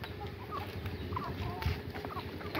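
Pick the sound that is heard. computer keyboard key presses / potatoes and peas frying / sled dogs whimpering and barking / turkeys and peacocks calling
turkeys and peacocks calling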